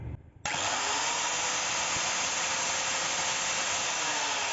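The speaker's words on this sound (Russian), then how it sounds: "Так, будем подтачивать на шлифмашинке." An angle grinder sharpens a metal part for a garden cart wheel, and its loud, steady high whine starts abruptly after a brief quiet moment and continues without a break, close up. Someone utters a single short word.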